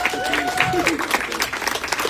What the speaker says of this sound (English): You guys gave him another warm round of applause.